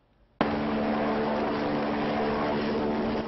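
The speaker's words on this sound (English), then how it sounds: "This is the UH-72A Lakota helicopter." UH-72A Lakota helicopter of the Oklahoma Army National Guard, its engine and rotor noise starting abruptly and then holding as a loud, steady whine and drone.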